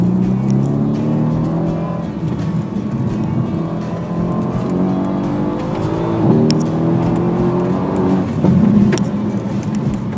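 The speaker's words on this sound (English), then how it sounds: "I'll keep quiet for a minute and just let you revel in this exhaust note." Mercedes-AMG C63 S engine revving with a rich, throaty exhaust note, steady rumbling revs with a few rising pulls and a pop near the end, loud and close, without speech.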